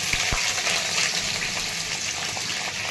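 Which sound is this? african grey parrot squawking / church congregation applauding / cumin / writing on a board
cumin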